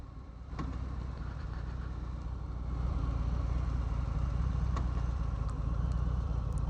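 Harley-Davidson FXDR motorcycle with a 114 engine out on a ride, a deep, steady engine rumble that grows louder partway through, with occasional faint clicks and no talk.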